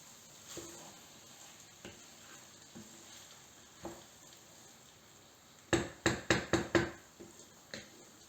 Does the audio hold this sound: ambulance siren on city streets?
no